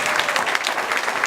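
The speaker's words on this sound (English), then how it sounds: "Give them a round of applause for bringing us together." Wedding guests clap for the couple in a brief, dense burst of applause close by, with no talk over it.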